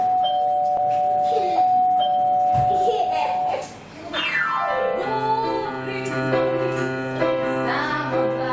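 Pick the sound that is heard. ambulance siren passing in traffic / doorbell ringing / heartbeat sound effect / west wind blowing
doorbell ringing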